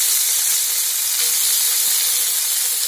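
Soya chunks fry in oil in a pan for a Bengali soya chunk and potato curry, giving a steady, loud, dense sizzle that runs unbroken from start to end with no voices.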